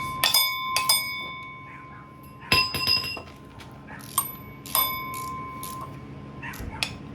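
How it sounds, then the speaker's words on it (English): A bright metallic bell rings repeatedly in sharp, ringing strikes, some doubled in quick succession, near and clear with lingering tones between hits against a low background hum, outside a garage where an LS V8 engine is being fitted into an MGB. "Ringing the bell there."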